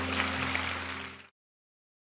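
Applause rises from a church congregation for God, a dense wash of clapping for just over a second before cutting abruptly to silence.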